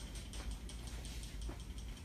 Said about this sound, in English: Once again, shake the can.